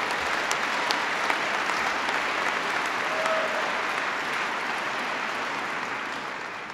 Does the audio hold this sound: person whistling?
no